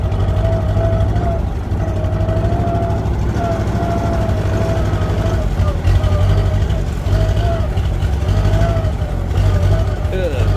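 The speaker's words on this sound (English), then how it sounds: "Sounds like the choke in the tractor or something's acting up a little bit." A tractor engine with a faulty choke idles loudly and unevenly nearby, its rumble wavering and sputtering, with a voice talking over it at times.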